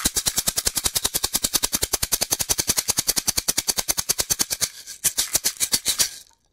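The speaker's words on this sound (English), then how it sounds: "And then the Shonga Gyro shaker sounds like this." A Shonga Gyro shaker played in a rapid, machine-like stream of sharp, even hits, around ten per second, loud and close, slowing briefly near the end before it stops.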